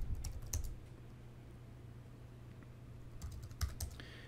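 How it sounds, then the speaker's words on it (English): Keyboard typing on a computer during a hacking session: bursts of quick keystrokes at the start and again near the end, with a quieter stretch between, fairly close and moderately soft, no talk. "if I can type"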